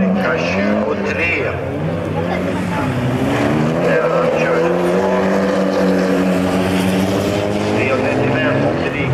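A rally car on a special stage, its engine droning steadily and strongly throughout while a commentator talks over it.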